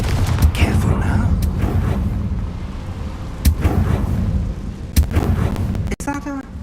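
Confringo blasting spell in Hogwarts Legacy, several booming explosive blasts over a rumbling game soundscape, ending in a sharp cut followed by a brief musical chime.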